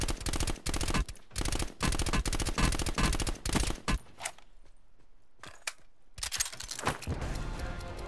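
Rapid bursts of automatic gunfire from Black Ops 4 Blackout blast through a wooden wall, loud and near, in several long volleys with a brief quieter gap before the shooting resumes.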